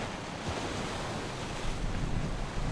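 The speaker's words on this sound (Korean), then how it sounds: "출렁이는 파도 사이에서" Ocean waves surge and wash continuously while strong dry-season wind buffets the microphone on the Great Barrier Reef in October, a rough, rumbling roar with no voices.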